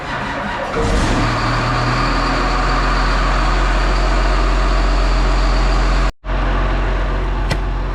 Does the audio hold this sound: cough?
no